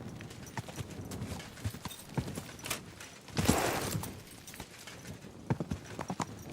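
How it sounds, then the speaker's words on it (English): Horse hooves clip-clop steadily while riding in Kingdom Come: Deliverance II, a close, uneven rhythm of hoof falls with a denser burst of movement midway and ambient noise around them. "Easy, good horse."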